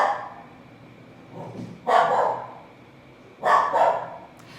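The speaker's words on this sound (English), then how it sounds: "Please excuse my dog. She's a little aggressive today." A dog barks in two sharp bursts indoors, each a quick pair of loud, close barks separated by a quiet pause, preceded by a softer low grumble.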